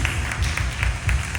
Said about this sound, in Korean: 감사의 박수를 올리겠습니다